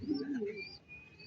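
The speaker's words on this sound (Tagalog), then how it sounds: "Yan na mga kaibon, yung kalapate niya." Pigeons coo softly with a low warbling call, faint and near, with a thin chirp from other birds around them.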